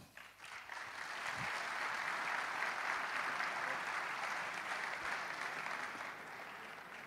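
A studio audience at a live comedy podcast taping breaks into a sustained round of applause, a dense wash of clapping that swells quickly and holds steady for several seconds before thinning at the end, with no speech over it.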